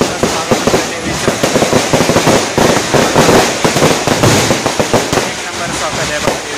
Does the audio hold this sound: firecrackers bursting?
yes